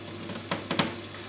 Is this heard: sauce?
yes